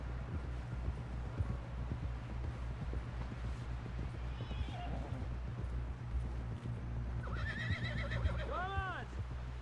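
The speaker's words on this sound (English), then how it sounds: "Someone help John down off this horse" Horses whinny loudly several times over steady hoofbeats and rumbling movement in the video game Red Dead Redemption 2, with voices talking briefly in the background.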